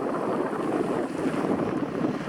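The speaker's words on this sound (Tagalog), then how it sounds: "Lakas ng hangin." Steady, loud wind roaring and buffeting the microphone throughout on Boracay, Philippines, a continuous broadband rush with no voices.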